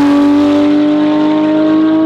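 Porsche GT3 992 with a straight-pipe exhaust revving hard, a loud, close, sustained howl with a steady high-pitched tone held for about two seconds, with no voices.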